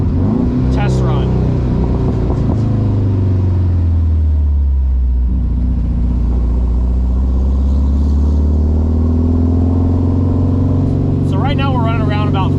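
A Haltech-powered Porsche 914 engine drones loudly while driving, the pitch dropping and rising as it downshifts into a turn, with brief speech over it near the start and end.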